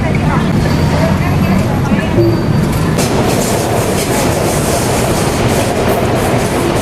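A BTS Skytrain rolls along an elevated line above a busy Bangkok shopping district, giving a loud, steady rumble with faint wheel clatter over constant city traffic noise.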